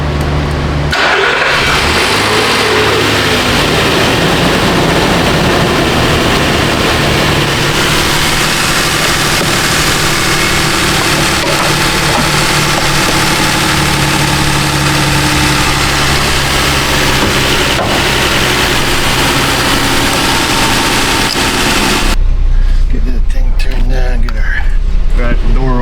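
A Nissan Frontier engine with a no-heat fault is cranked, catches and settles into a steady, loud idle while warming up, the hum continuing unbroken for a long stretch, and a voice speaks briefly over it.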